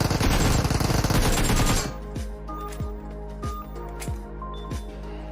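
Gunfire in PUBG Mobile: a rapid burst of automatic shots for nearly two seconds, followed by several spaced, single heavy blasts with short ringing tails.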